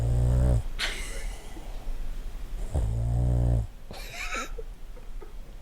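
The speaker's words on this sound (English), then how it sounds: "I need people to hear this dog." Iggy the dog breathes heavily face down in a blanket, giving loud, close, rumbling snorts and snore-like inhales in two long bursts, each followed by a sharp snuffle.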